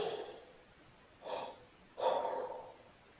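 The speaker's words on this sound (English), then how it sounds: "I take a breath with the tube, listen to the sound, and take a breath without the tube and try to match it" Breaths drawn through a breathing practice tube used by a wind player, three separate airy inhalations with short gaps between, close and moderately quiet, no talking.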